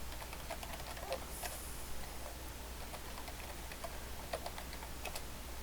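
Fingers tap on a computer keyboard while logging in to Ubuntu Server, producing a quiet, irregular run of light clicks over a steady low hum.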